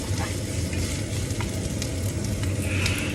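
Ricados for a seashell dish, the aromatics, fry in a pan with a loud, continuous sizzle and bubbling crackle, steady throughout with no talk.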